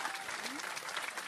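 A church congregation claps and cheers in praise of the Lord, a dense, steady wash of applause with raised voices mixed in, continuous from start to finish.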